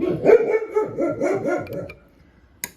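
A dog barks indoors in a quick rhythmic series of about seven loud, close barks, then falls quiet before a single sharp click at the end.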